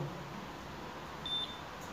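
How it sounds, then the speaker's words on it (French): A single short electronic beep from a ghost-hunting detector in a supposedly haunted abandoned kitchen, faint and brief over a quiet, hissy room. "Est-ce que vous pouvez faire biper, s'il vous plaît, un peu plus fort pour montrer que vous êtes là?"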